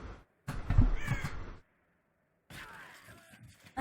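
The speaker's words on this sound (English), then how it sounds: "Couple birds circling each other." Birds in the video game Warcraft III give two bursts of harsh, crow-like cawing, about a second each with a silent gap between, sounding clear and fairly close.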